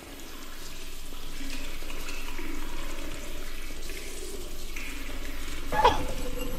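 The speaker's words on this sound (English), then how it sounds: "Nah, this is just the water system." Water rushes steadily from the plumbing of a restroom, a constant hissing flow filling the space, with a small clunk near the end.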